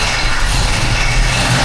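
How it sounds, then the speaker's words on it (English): A car engine idles steadily on its own after a cold start, a continuous low rumble that holds at an even, moderately loud level without any voices over it. "It's idling on its own now."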